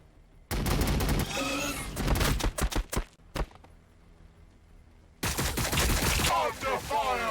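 Gunfire in the video game Warhammer 40K: Battlesector comes as loud, rapid volleys of shots. A long burst and a few sharp single cracks give way to a brief lull, then another dense barrage follows.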